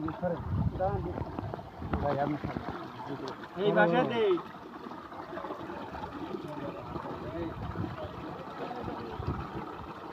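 A steady rush of water gushing from a solar irrigation pump runs throughout, with people talking over it now and then.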